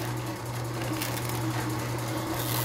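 A Tribest slow juicer grinds celery with a steady, even motor hum and a low mechanical drone that holds unchanged for the whole stretch, close and moderately loud, with no talking.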